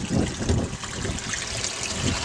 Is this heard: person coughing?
no